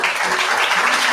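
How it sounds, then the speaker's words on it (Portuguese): A church congregation applauds during an evening communion service, a brief burst of dense clapping from many hands filling the room. "Pode dar um aplauso a Jesus."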